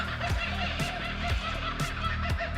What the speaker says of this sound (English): The laughing sound of the kookaburra bird